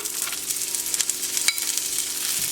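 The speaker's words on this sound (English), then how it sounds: "Okay, so our butter is melted. I'm going to add a little bit of my peas to the pan." Green peas hit melted butter in a pan and sizzle steadily with a bright, crackling hiss, joined by a sharper spatter midway through.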